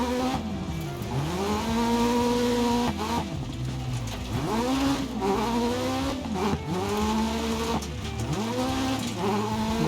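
Rally car driven in the video game DiRT Rally 2.0, its engine loud and close with repeated revving sweeps that rise and drop at each gear change and throttle lift, plus tyre scrabble, continuous with no talk.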